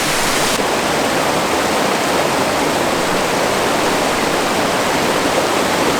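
An unmarked bush waterfall in Barrington Tops, New South Wales, roars as a steady, loud, continuous rush of falling water heard up close, with no voices.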